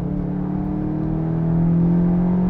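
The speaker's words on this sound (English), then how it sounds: "the sound system just pipes in kind of an artificial engine note" Artificial engine note piped through the sound system of a 2021 Volkswagen Arteon facelift in sports mode, a steady humming drone inside the cabin that swells and rises slightly in pitch as the car accelerates.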